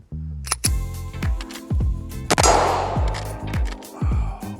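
Shots from a Glock 19 fitted with an Angled Spade integrally compensated slide: about eight sharp, loud reports in an irregular string, each with a metallic clang and short ring, some fired close together.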